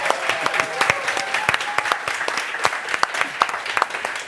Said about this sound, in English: Before we go, just one round of applause for Glenn and Tatiana for putting this pitch